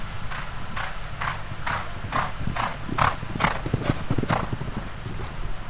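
Racehorses walk on a hard surface at a racing stable, their hooves clip-clopping in a steady, close rhythm over a low background rumble.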